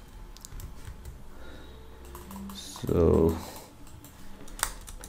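Someone types on a computer keyboard, with scattered clicky keystrokes at close range under a man's speech and a brief louder burst of voice partway through.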